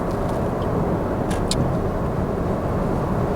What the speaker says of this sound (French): on entend énormément le souffle du vent et le bruit de la route